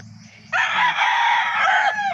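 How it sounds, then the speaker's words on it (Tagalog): A fighting rooster on a small farm gives one loud, close crow during morning feeding. The call is drawn out for about a second and a half over a low background hum. "maaga akong nagpakain sa aming mga manok panabong"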